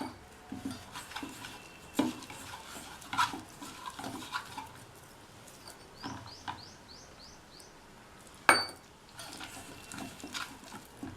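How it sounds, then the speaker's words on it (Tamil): Raw banana (vazhakkai) batter is stirred and mixed in a bowl, producing soft wet squelches and scraping with occasional sharp clinks of a utensil against the side; faint bird chirps sound in the background. "மறுபடியும் கலந்துக்கலாம்"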